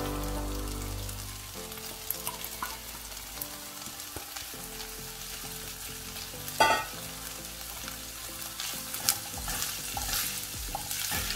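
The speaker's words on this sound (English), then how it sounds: "Let's go ahead and add our bacon that we just diced." Diced bacon and glazed onions sizzle in a hot pan with a soft, steady crackle, broken by a few stirring scrapes and pops.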